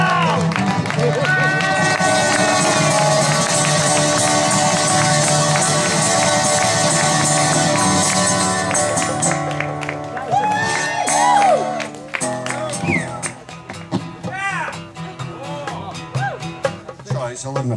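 A crowd at a live flashback music performance in Goa, India, claps and cheers loudly and continuously, the roar thinning into scattered whoops and chatter toward the end.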